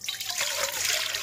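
Water is poured from a cup into a dough kneading machine, a short, steady splashing trickle lasting about a second, close and moderately loud with no talk.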